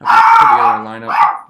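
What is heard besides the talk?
dog barking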